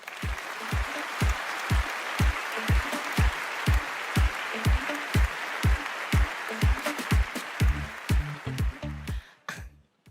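A seminar audience applauds as a Korean business speaker, a Royal Master, is introduced. The clapping is a dense wash that runs the whole way through, mixed with a steady pounding music beat.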